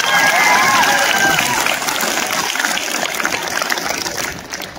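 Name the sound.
audience applauding loudly at lecture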